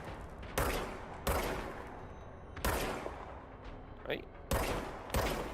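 Sharp, loud gunshots from the video game Control land in about six spaced single bursts, each with a quick decay, while a voice murmurs briefly between shots.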